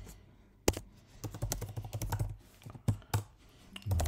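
Login credentials typed on a computer keyboard, a close, quiet run of irregular key clicks with a few sharper isolated presses.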